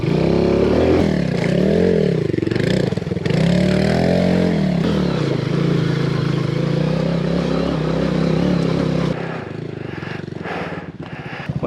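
A 125 Scrambler motorcycle engine revs hard off-road, loud and close, its pitch rising and falling in surges for about nine seconds before dropping to a rough idle and clatter.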